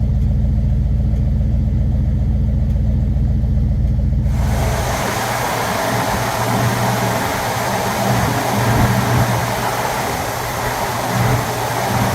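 A 1964 Ford Galaxie 500 XL engine starts quickly and settles into a steady, rumbling idle, close and loud, with a constant mechanical hum and no voices.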